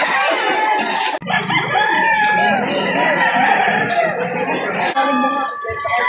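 A rooster crows among the din of a busy chicken market in Lipa City, Batangas. Overlapping crows and clucks sound close and loud against constant crowd noise, with voices mixed in.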